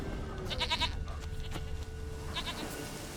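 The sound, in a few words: goat bleating in the video game The Witcher 3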